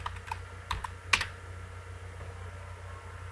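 Computer keyboard keys tapped while writing Python code, a few scattered clicks in quick bursts early on, then quieter, over steady low room hum.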